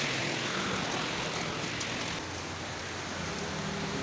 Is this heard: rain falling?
yes